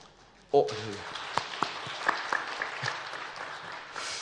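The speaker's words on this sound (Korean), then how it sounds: "박수를 쳐주실 줄 몰랐는데" Church congregation applauding during a Friday evening service, a sudden burst of scattered clapping that stays fairly thin and uneven, with a few sharper individual claps standing out.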